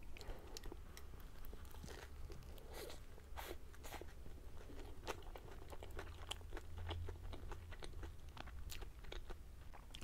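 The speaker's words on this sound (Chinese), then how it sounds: "下面的面包脆脆的。" Crunchy bread topped with cheese and cream bitten and chewed up close, a steady stream of crisp crackling crunches over about ten seconds with no talking.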